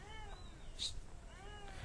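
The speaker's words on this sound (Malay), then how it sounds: "eh kucing." Cat meowing indoors, a faint drawn-out meow followed by a second, softer one, over a quiet room.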